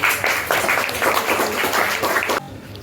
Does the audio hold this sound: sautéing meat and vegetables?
no